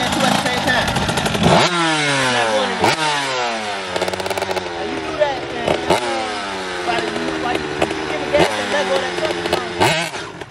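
A KTM 85 two-stroke dirt bike revs hard and close by, its engine rising and falling in repeated sweeping bursts over about ten seconds, with a sharp crackling buzz.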